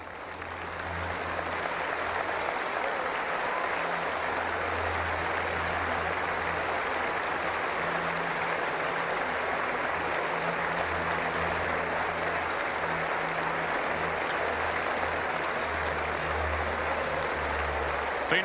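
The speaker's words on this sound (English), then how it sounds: "Please join us for a moment of applause." A football stadium crowd at an A-League match between Wellington Phoenix and Melbourne Victory applauds as a mark of respect, a steady broad wash of distant clapping that holds evenly for the whole stretch.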